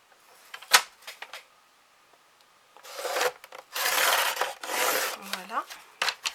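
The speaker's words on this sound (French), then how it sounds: "Je vais prendre mon massicot." Card being cut on a massicot paper trimmer: a sharp click, then sliding, rubbing strokes as the card is positioned and a longer scraping cut, close and dry.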